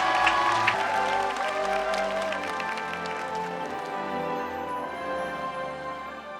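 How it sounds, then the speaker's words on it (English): Audience applause at a world peace declaration commemoration, a dense wash of clapping that stays fairly steady and slowly thins toward the end, with musical tones sounding underneath. "Please give him another round of applause."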